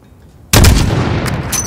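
Single sniper rifle shot fired at a target 600 meters away in the Call of Duty Modern Warfare video game, a sudden loud boom after a quiet lead-in, followed by a long rolling echo tail.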